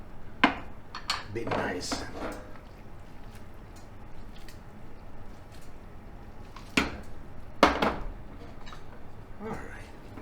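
Linguine with shrimp and tomato tossed in a metal pan, with a few sharp scraping clanks and soft squishy stirring under a nearby voice speaking.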